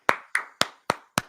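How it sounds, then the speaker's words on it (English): Five slow, evenly spaced hand claps ring out close and sharp to honour the winners of a competition, each crisp slap decaying quickly before the next. "I think it deserves a clap."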